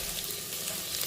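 Onions with a bay leaf fry in oil for biryani, giving a soft, steady sizzle at low level over the short stretch.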